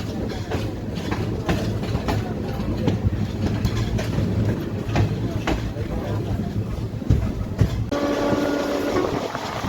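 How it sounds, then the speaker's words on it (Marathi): Tapovan Express pulls out of Manwat Road station after a one-minute stop, steady rolling clatter of wheels and carriages filling the scene, with a brief horn-like tone near the end. "एक मिनिटाच्या स्टॉप नंतर मानवत रोड वरून आपली ट्रेन निघालेली आहे."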